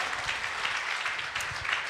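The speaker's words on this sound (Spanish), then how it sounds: "Dale un fuerte aplauso a Cristo que te da vida." A church congregation claps and applauds steadily throughout, a dense wash of hand claps filling the room without a break.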